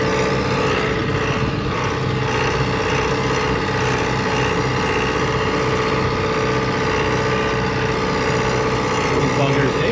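A tractor engine runs in a steady, unbroken drone on a farm near a herd of cows, loud and close for the whole stretch.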